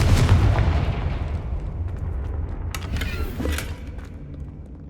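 A Confringo blasting spell goes off in Hogwarts Legacy, a single loud, close explosion with a heavy low boom that rolls and decays over several seconds, with faint crackling debris afterward.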